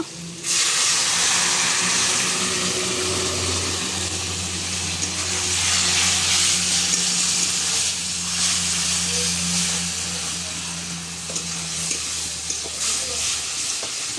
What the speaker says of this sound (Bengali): সব পেঁয়াজগুলো দিয়ে রসুন বাটা, আটা বাটা, জিরা বাটা, গোলমরিচ দিয়ে, লবণ, হলুদ, ধনিয়া গুঁড়া দিয়ে তারপরে সাঁতলে নিয়েছি